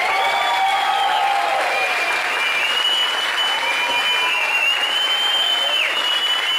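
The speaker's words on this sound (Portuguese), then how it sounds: "Vamos dar uma salva de palmas" Crowd applause at a beach dance festival tribute, a broad steady roar of clapping and cheering, with sustained tones ringing over it.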